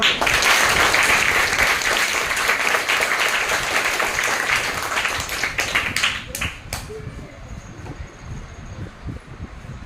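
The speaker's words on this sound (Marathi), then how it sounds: "जोरदार टाळ्या वाजवा." Loud, sustained applause from an audience at a school prize ceremony for scholarship exam merit-list students, dense clapping that thins and fades toward the end.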